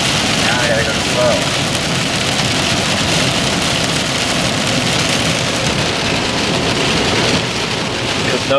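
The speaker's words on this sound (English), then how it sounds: "Because no road trip is complete without rain." Dense, loud rain pelts a car on a road trip, a continuous hiss of drops on the roof and windshield with the engine running underneath.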